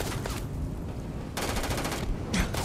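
Rapid automatic gunfire aimed at the player in the video game Starfield, several loud bursts of machine-gun fire broken by short quieter gaps.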